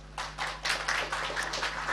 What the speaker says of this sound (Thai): ปรบมือให้หน่อยสิครับ